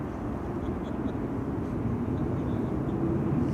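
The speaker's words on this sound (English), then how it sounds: "KLM flight 1640 arriving from Turin, that probably is also taking the detour." A KLM airplane arriving at Amsterdam Schiphol Airport, heard as a distant, continuous low jet rumble spreading evenly through an outdoor airport setting, with no voices.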